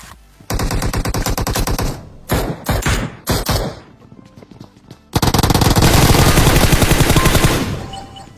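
Automatic gunfire erupts inside a building during a firefight between two squads in PUBG: a long rapid burst, then a few short choppy volleys separated by pauses, then another loud sustained stream of shots, all close and with no talking.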